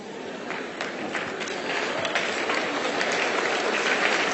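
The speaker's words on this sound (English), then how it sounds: "This is one of those applause," An audience at a speaking event applauds in a dense, steady wash of clapping that gradually swells louder, with no voices cutting through.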